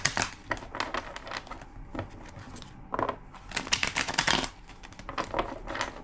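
Playing cards are shuffled in several quick riffling bursts, crisp papery flutters separated by brief pauses, close and fairly quiet.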